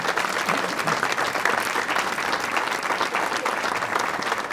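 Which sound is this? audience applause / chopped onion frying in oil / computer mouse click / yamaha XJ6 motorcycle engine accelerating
audience applause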